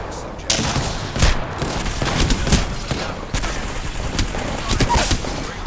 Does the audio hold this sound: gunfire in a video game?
yes